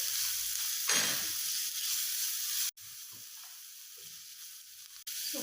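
Ginger garlic paste sautéing in a hot pan for a paneer bhurji, giving a steady close sizzle with a brief louder burst near the start and two short cut-outs, no voices.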